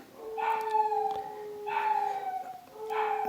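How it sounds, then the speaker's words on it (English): Dogs howl in long, wavering cries, rising and falling in three swells, with a steady high tone held underneath and no talking. "So my dogs are going off in the background."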